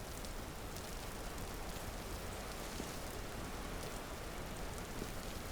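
Steady rain falls in the Vintage Story video game, a dense, even hiss of drops spread across the whole clip, with no talk and no thunder.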